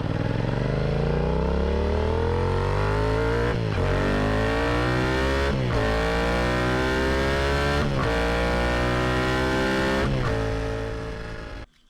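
Motorcycle exhaust captured up close by a helmet-mounted camera angled down at the pipe, a loud continuous engine note rising through several rev climbs with brief dips between gear shifts, alone with no voices.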